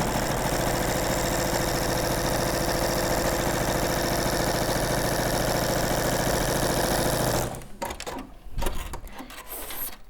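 A sewing machine stitching around three sides of a fabric piece, a fast, even mechanical whirring held loud and steady for several seconds before it stops and handling noises follow.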